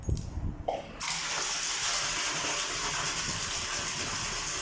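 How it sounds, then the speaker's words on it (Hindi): Water from a pump pouring into a water tank, a dense continuous rushing splash that starts suddenly after a brief quieter moment and holds steady and close, with no talk. "अभी हम इसका रुख नीचे करते हैं ताकि आप देख सकते हैं कि इस हमारे वाटर टैंक में पानी आना शुरू हो गया है"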